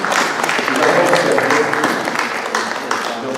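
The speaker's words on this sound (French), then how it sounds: "Un coup d'applaudissement pour Charles." A congregation at a church baptism applauds with a steady patter of many hands, with voices mixed in among the clapping.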